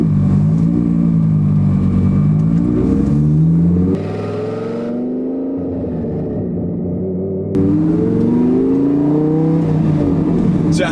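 A twin turbo Lamborghini's exhaust roars and revs while driving, with rising and falling engine tones, a brief drop in intensity mid-way, then surging again, loud and close from inside the car.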